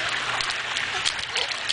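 A baby splashes in a backyard pool, with light, continuous water slaps and trickling close by and no talking.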